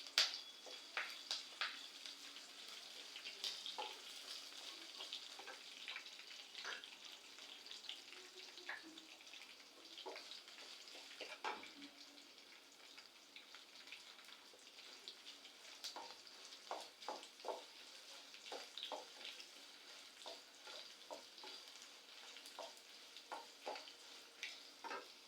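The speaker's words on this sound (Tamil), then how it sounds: "இப்போ நிலக்கடலை நம்ம வறுத்தது எல்லாமே நல்லா பொன்னிறமாக வறுத்துருச்சு" Peanuts and chana dal roasting in a pan with curry leaves and dried red chillies for puliyodharai, giving a soft steady sizzle with frequent light scraping stir clicks throughout, no talking.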